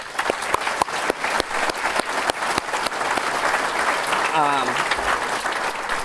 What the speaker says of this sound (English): So I would love if you guys gave a round of applause for my dad tonight.